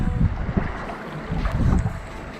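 A boat pulls up to a small island in open sea, giving a loud, close rumble of hull and water under heavy gusting wind buffeting the microphone.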